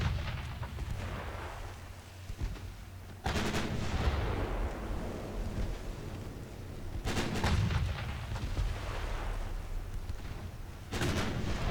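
Naval artillery booms from warships in the Ultimate Admiral Dreadnoughts game, 1920 Germany campaign, as three heavy salvos strike about four seconds apart over a constant rumbling sea-and-engine bed.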